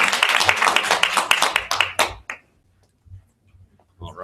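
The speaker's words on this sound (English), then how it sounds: "give yourselves a round of applause" Applause from an audience at a sexuality studies event: a dense burst of hand clapping for about two seconds that thins to a few scattered claps and stops, followed by near silence with faint low rumbles.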